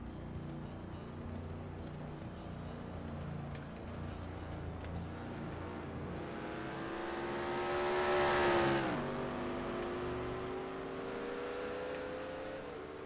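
Racing trucks in a video game race at Chicagoland Speedway, engines droning steadily as a pack runs around the oval, one engine rising in a loud whining surge that peaks and drops before the steady roar returns.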